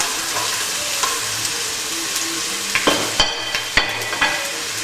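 Vegetables sizzle in hot olive oil in a pan with a steady close hiss, while a few sharp clacks of stirring utensil against the pan break in toward the end.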